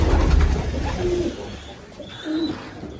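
Pigeons coo in a loft: two low, soft coos roughly a second apart, close by, over a faint rustling background with a little bird chatter.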